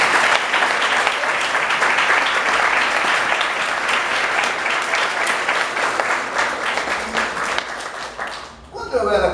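Church congregation applauding together, a dense, steady wash of clapping that holds strong for about eight seconds before cutting off abruptly.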